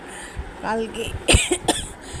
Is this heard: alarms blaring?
no